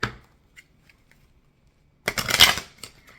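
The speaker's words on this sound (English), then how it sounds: "Let me shuffle these, because I don't remember if I shuffle." A deck of tarot cards is riffled in a short, crisp burst of flapping and rustling near the end, preceded by a few faint soft taps, close and with no talking.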